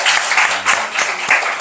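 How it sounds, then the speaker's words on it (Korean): A church congregation claps in welcome during a Sunday service, loud and close, with a quick uneven patter of hands that rises and dips in short bursts. "우리 박수로 환영해 주시기 바랍니다"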